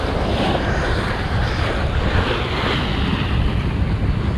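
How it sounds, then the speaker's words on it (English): Steady, loud wind and surf wash over the open water aboard a sailboat turning into the wind, its head sail flapping, a dense continuous roar with no talk. "The head sail's gonna start flapping."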